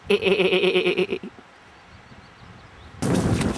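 Sheep bleating in the Scottish Highlands, a loud, harmonic, wavering bleat lasting about a second near the start, followed by quiet outdoor air and then a burst of broadband noise.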